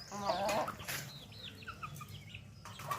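Country hens clucking and squawking close by while foraging after rain, a large hen chasing the others away from food, with short excited calls scattered over quiet outdoor background.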